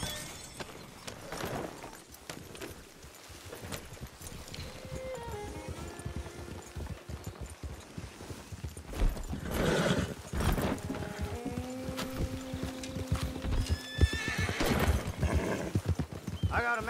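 Horses in Red Dead Online clip-clop steadily over ground as riders move out, with repeated neighs and whinnies rising above the hoofbeats, busy and close.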